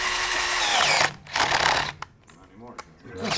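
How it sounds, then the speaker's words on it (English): Power drill boring out a steel helicoil thread insert from a threaded hole, working hard in bursts of loud grinding whine broken by short pauses, with a person speaking briefly between runs. "This one's not drilling as easy, probably because that steel helicoil's in here."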